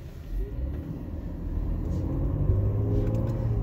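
A garbage truck rumbles close by on the road, its deep engine drone steady and building slightly louder as it goes on, with no clear voice over it.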